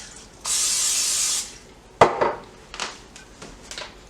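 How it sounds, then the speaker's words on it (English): Cooking spray hisses from a can into a pan in one steady burst lasting about a second, followed by a sharp clack and a few lighter knocks as the pan and can are handled. "Next we're going to take a pan and we're going to"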